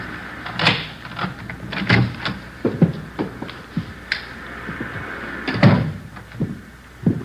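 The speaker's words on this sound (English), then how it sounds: "Here's the front door key. See if you can work it." A front door is worked with a key and opened, heard as a string of close clicks, rattles and knocks of the lock and latch with irregular gaps, moderately loud in a quiet room.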